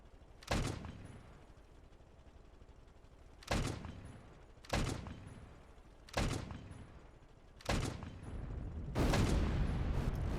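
Heavy cannon impacts from a tank battle in the game Stormworks, with a shell striking a tank turret: five or six loud, sharp booms spaced a second or two apart, the last one longer and rumbling, with no talking.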